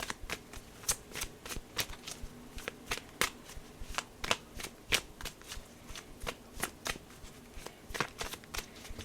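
Tarot cards shuffled by hand, a steady run of soft riffling flicks and slaps, close and quiet, with no talk.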